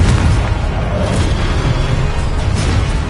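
A Confringo spell explosion in Hogwarts Legacy, a loud, sustained booming blast with a dense low rumble that fills the whole moment without letup.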